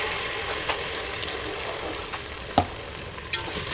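Onions fry in a pan until browning, giving a steady, close sizzle with a few soft clicks from stirring and no talking.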